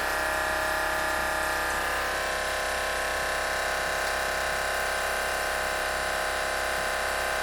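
An electric water pump runs steadily with air in the line after being switched off, giving a constant buzzing, rattling drone at even loudness throughout, with no talk.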